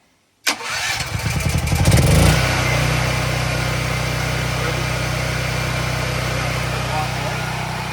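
A portable lakehouse generator engine cranks and catches, then settles into a loud, steady running drone that fills the rest of the clip.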